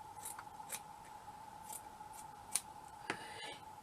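Scissors make a few soft, faint snips through felt while flower shapes are cut from scraps, with light rubbing between the cuts over a quiet background hum.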